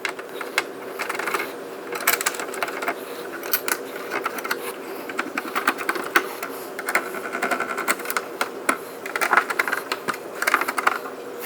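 Close, rapid small clicking and mechanical ticking come from screws being tightened while mounting an inexpensive 4K camera. It runs fairly steadily with irregular bursts.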